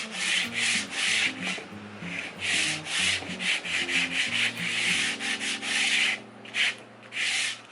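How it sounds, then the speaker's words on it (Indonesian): Wood being sanded by hand with 80-grit sandpaper, steady rhythmic back-and-forth scrubbing strokes, close and fairly quiet, with no talking. "Kemudian kita amplas dengan yang 80."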